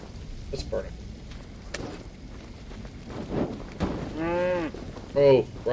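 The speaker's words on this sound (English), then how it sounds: "Oh, run, cow. Please don't become burgers." Cattle in Assassin's Creed Valhalla, Wrath of the Druids, low with two drawn-out moos near the end, set against game ambience and someone talking earlier in the clip.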